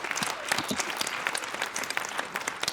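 Audience applauding at the start of an evening club comedy show for a March 8 celebration, heard as dense continuous clapping throughout, close and fairly loud, with a faint voice underneath.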